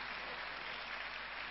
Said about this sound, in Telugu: ఒక్కసారి చప్పట్లతో వారిని అభినందిద్దాం